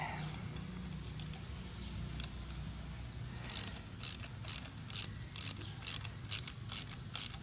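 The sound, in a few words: ratchet with Torx bit on Aeromotive fuel pressure regulator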